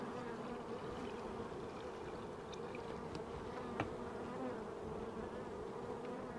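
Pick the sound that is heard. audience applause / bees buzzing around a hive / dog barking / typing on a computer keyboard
bees buzzing around a hive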